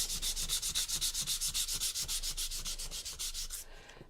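Steady rhythmic hand sanding, quick back-and-forth scrapes of sandpaper on a painted surface, close and even, stopping near the end; no voices.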